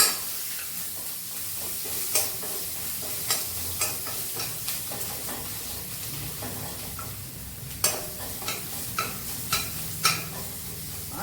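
Crushed garlic and green chilies fry in hot oil in a close, steady sizzle, punctuated by regular sharp scrapes and taps of a spatula against the pan as they are stirred, with no voices present.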